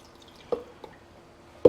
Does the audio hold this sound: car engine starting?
no